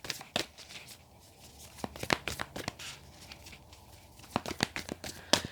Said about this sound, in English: Your cards are going to take a while to come out. So if you hate shuffling, you might want to fast forward